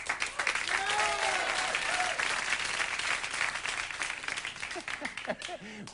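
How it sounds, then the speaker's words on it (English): Studio audience applause on a late-night talk show, loud sustained clapping with a few whoops and cheers rising near the end. "That was sort of kind of like we're tired of it applause."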